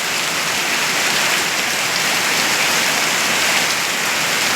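Steady, heavy rain pours down in a continuous dense hiss, close and loud, with no other sounds.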